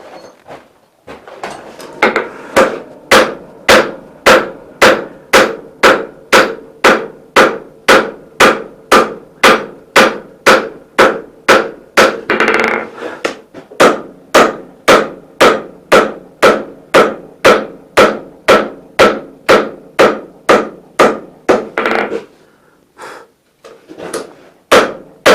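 A hammer forges wrought iron and 5160 steel for a hatchet, striking in a steady, rapid rhythm of dozens of loud ringing blows, close by, with a brief pause and a few scattered final hits.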